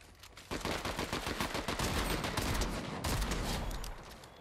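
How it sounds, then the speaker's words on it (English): Gunfire from the video game Fortnite, a shotgun: a dense, loud burst of rapid repeated shots that continues without pause. "time to shotty him"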